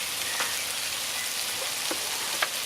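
Onion and ginger sizzle in a restored Dutch oven over a Weber kettle, a steady broadband frying hiss with a few faint pops and crackles, close and without talk.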